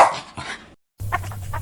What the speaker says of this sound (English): The Jindo dog was angry.